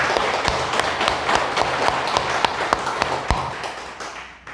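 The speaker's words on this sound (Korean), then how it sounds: "다시 한번 힘찬 박수로 보내드리겠습니다" An audience in a Won Buddhist temple hall gives a strong, steady round of clapping, dense and sustained throughout before fading slightly at the end.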